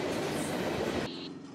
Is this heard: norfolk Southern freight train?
yes